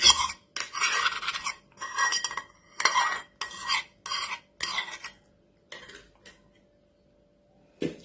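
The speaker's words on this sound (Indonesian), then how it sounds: "Lalu kita aduk rata lagi." Spoon stirring melted margarine into pumpkin cake batter in a bowl, a close series of about eight scraping, clinking strokes with short pauses, trailing off into quiet.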